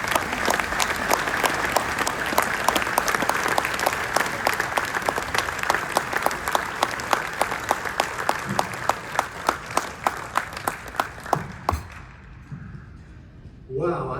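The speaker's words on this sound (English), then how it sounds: "Let's give him a round of applause." An audience at a hall of fame induction ceremony for Coach Greg White claps in a steady, sustained round of applause that fills the room, then fades out near the end.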